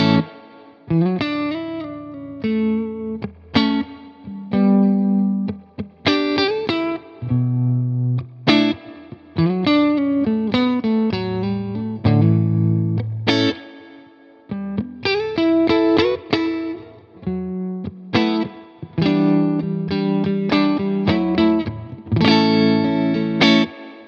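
Electric guitar riffs and sustained chords played through an Orange amp with a Tone King Imperial preamp, distortion and a spacious reverb tail, continuous and loud.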